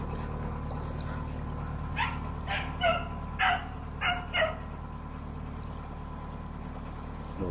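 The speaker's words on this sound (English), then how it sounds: "Naughty dog." A dog barks and yips in a short burst of about five sharp calls, moderately close, along a canal towpath by a narrowboat, over a steady low rumble of engine or background noise.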